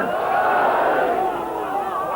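A large crowd at a Muharram majlis gathering roars a chanted reply to the Nara-e-Haidari slogan, a loud, sustained unison shout of many voices filling the room for about two seconds.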